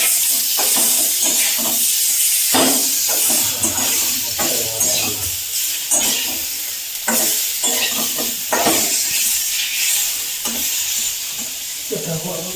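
Hot oil sizzling and hissing in a pan as fish is fried for a village-style fish curry and fry, with repeated stirring and clinks of a utensil against the pot over a steady crackle.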